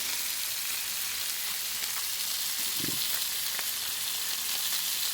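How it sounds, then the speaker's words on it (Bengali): Whole masala-roasted fish frying in a pan, giving a steady broad sizzle that runs the whole time with a brief low bump near the middle and no talk. "মাছ ভাজাটা আমার একদম রেডি হয়ে গেছে আর খুব সুন্দর সেদ্ধ হয়েছে"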